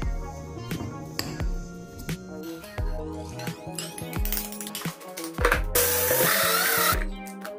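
A blender grinding peeled cacao beans, its motor whirring in uneven, stuttering bursts with rattling of beans inside the jar, swelling to a loud continuous roar near the end, no talking.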